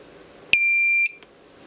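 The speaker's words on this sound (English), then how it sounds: "Buzzer works." Buzzer of a homemade portable motion detector alarm sounds once, a loud, piercing electronic tone lasting about half a second, cutting off sharply against a quiet background.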